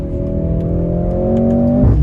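A 2024 Mercedes-AMG GLC43 compact SUV with a 416-horsepower 2-liter four-cylinder, accelerating hard with a loud, steadily rising engine drone and a sharp shift near the end, heard up close.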